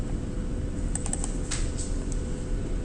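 Keys tapped on a computer keyboard while entering a spreadsheet formula, a short run of close, quick clicks over a steady background hum.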